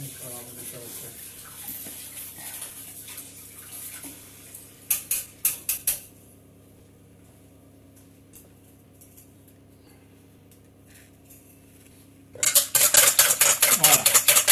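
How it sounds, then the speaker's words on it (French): Whisk beating a mixture in a bowl while making a strawberry rosemary tart: quick brief bursts of fast metallic scraping, a long quieter gap with faint clinks, then a loud, steady rapid whisking at the end; a person talks during the quiet parts. "Je vais prendre l'autre fouet"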